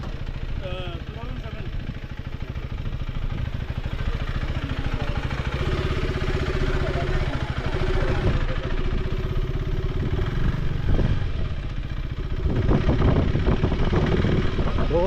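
A KTM 390 Adventure S motorcycle with a 21-inch front wheel, ridden in Guwahati, drones its engine steadily throughout beneath people talking close by.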